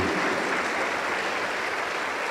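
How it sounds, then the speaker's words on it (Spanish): A church congregation applauds during a Spanish-language sermon, a dense, steady wash of many hands clapping without pause. "Aplauso para el Señor Jesús"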